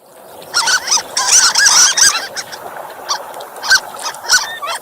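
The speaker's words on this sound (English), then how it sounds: "That's the sound of a harlequin duck." High, squeaky harlequin duck calls come in quick bursts and clusters, sharp nasal notes repeated several times over a quiet hiss.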